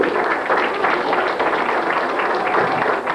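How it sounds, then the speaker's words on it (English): Audience applause at a magic show banquet, steady continuous clapping from a crowd filling the whole stretch without pause. "And another warm round of applause."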